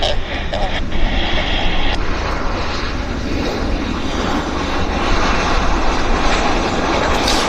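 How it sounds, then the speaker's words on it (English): A Turkish airliner departs from runway 26 left at Vancouver Airport, its jet engines producing a broad, continuous roar at steady loudness throughout, with someone talking nearby. "So the Turkish is cleared for departure, and we want to get it."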